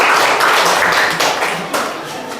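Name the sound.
students clapping for a classmate in class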